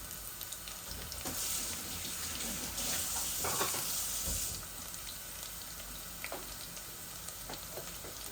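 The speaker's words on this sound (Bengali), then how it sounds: "আমার তেলটা গরম হয়ে গেছিল ওটার দায় আমি রসুনও দিলাইলাম" Garlic sizzling in hot oil for a fish curry, a dense continuous crackle and hiss that swells in the middle, with faint scraping and splashy clicks from stirring throughout.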